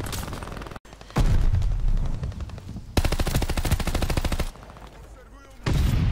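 Gunfire in Call of Duty: Vanguard, with long loud bursts of rapid automatic fire broken by short gaps, close and dominant, with a little voice underneath.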